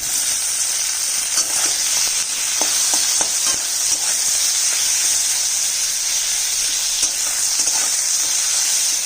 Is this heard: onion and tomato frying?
yes